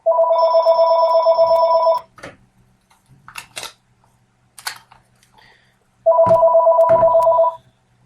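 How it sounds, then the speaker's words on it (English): Cell phone ringtone going off indoors, a loud electronic two-tone ring lasting about two seconds, then a few soft clicks and handling noises, then the same ring repeating. "sorry about that, my cell phone went off"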